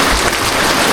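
Rain pours steadily near a house in the Thai countryside, a loud, close, unbroken hiss of drops with no pause.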